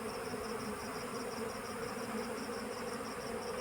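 Honey bees swarm and buzz steadily around a traditional hive box while hornets attack them, a dense, continuous close drone with a high whine running through it.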